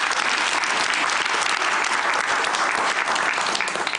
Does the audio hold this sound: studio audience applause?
yes